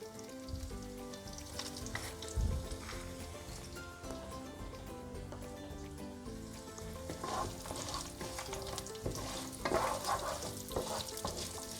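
About fifteen cashews frying in hot oil for lemon rice, a steady close crackle and bubbling sizzle with occasional stirring clinks and brief louder spatters, no voices.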